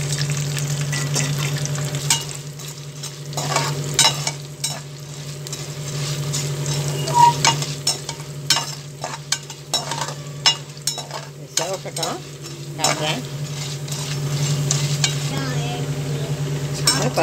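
Mustard seeds, urad dal, chana dal and dried chilies fry in about three tablespoons of hot oil, a steady close sizzle broken by popping seeds and repeated clinks of a spoon stirring against the pan.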